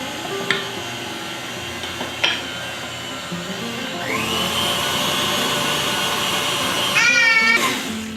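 Victoria sponge cake batter being mixed after creaming, a steady whirring hum with a few knocks that grows louder and fuller midway and continues to the end, with no talk.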